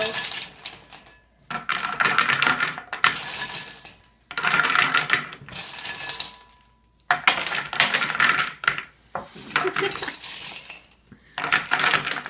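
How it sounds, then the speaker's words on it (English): Handfuls of ice clatter and rattle into a bowl for homemade vanilla ice cream, arriving in several loud bursts separated by short pauses. "the first step is to add a bunch of ice to one side of the bowl"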